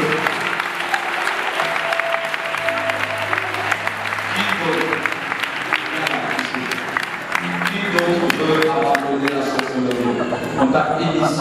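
Congregation at a Côte d'Ivoire church service applauding and cheering steadily throughout, a dense wash of clapping with voices and some music underneath.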